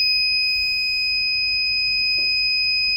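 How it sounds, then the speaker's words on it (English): An AB-E4PWR access control board on 12-volt DC power emits a continuous high-pitched electronic tone during a factory reset, loud and steady throughout with no voices. "The unit will now beep twice"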